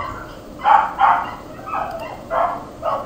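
Several dogs bark at a moderate distance, about five loud, separate barks in an irregular pattern with quiet gaps between them and no talking.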